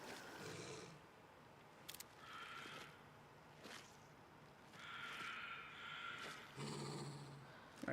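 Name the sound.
dog in the video game Alan Wake 2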